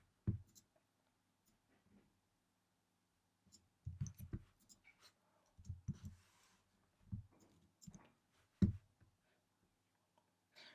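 Sparse clicks from typing on a computer keyboard, coming in short irregular bursts with quiet gaps between them. The taps sound close by and soft, and no voices are heard.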